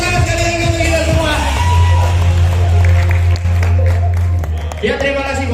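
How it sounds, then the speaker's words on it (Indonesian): An audience at an Indonesian business leadership event claps and cheers in a loud, sustained burst while a voice keeps talking and calling out over the crowd. "Tepuk tangan sekali lagi untuk kita semua"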